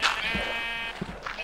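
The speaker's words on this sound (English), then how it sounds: "Why is there 8 million sheep?" A sheep bleats in the Minecraft video game, one clear wavering bleat up close with a few soft thumps after it.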